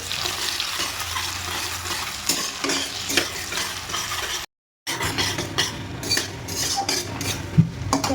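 Chopped onion hits hot oil with small and large cardamom, cloves, cinnamon and bay leaves for chicken tahari, giving a loud, steady sizzle broken by a spoon stirring and scraping the pan.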